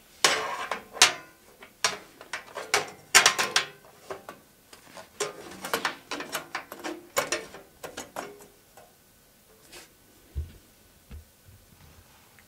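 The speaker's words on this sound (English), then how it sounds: "what you want to do is slide it into this bay right here" A solid state drive sliding into a PC drive bay: a run of close metallic clicks, scrapes and ratcheting knocks that slows and thins toward the end, with no talking.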